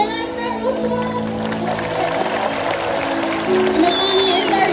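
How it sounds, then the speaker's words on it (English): An audience claps and cheers at a SeaWorld orca show, a continuous wash of applause with an announcer's voice talking over it throughout. "Everyone give him a nice round of applause."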